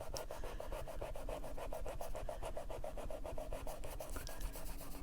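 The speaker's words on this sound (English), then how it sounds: "I'm just going to rub that with my finger." A fingertip rubs over colored pencil on paper to blend it, giving a steady, close, dry rasping with a quick back-and-forth rhythm throughout, alone without talk.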